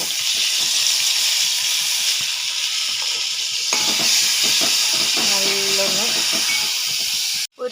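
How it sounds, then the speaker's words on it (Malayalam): Onion, fenugreek, mustard seeds and garlic sautéing in a pan for a papaya tamarind curry, with a loud hissing sizzle, stirring, and a voice talking over it partway through, before the sound cuts off abruptly. "ഉള്ളി ഉലുവ കടുക് വെളുത്തുള്ളി ഇതൊക്കെ ഒന്നിതാ ഇങ്ങനെ ഒന്ന് വഴന്ന് ഇനി ഇതിലേക്ക് ഇതാ തക്കാളി ഇടാൻ പോന്നു"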